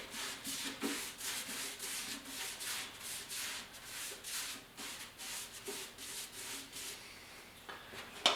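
Rag rubbing a coating onto plywood beam cladding in a basement gives soft, rhythmic back-and-forth scrubbing strokes, about two a second, close by and fairly quiet, with no talking.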